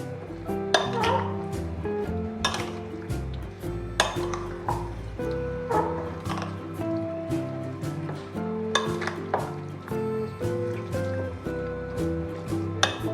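A spoon stirs mutton karahi ingredients with cumin and pepper in a pot, clinking repeatedly against the metal in an uneven rhythm over a steady tonal background.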